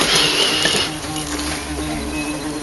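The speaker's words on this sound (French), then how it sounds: "Une bonne grosse guêpe là juste en face de moi" A wasp buzzes close by, loudest at first and then fading to a lower, steadier drone. No one speaks.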